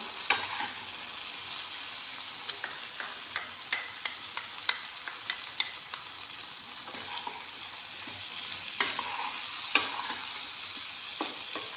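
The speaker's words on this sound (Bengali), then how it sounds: "সব সবজির সাথে আমি ভালোভাবে মিশিয়ে নেব।" Vegetables for shukto, bitter gourd and green banana with mustard paste, ginger paste and radhuni, are stirred in a frying pan, with scraping strokes over a steady sizzle, close and continuous.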